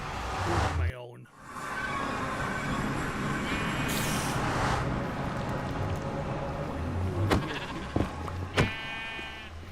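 Sheep bleat in a video game: a couple of short, sharp bleats near the end stand out over steady game ambience, with a voice speaking earlier.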